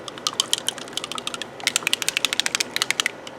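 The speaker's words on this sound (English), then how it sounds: "If you can hear this, it's got a mixing ball in it, just like the rest of the paints do." A rapid series of small, sharp clicking rattles in quick succession as a mixing ball knocks inside a shaken model paint bottle, close and fairly quiet.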